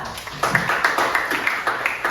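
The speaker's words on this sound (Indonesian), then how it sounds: "bagus, tepuk tangan buat Kayla." A few people clap together in a loose, steady rhythm of sharp, close claps that lasts about two seconds.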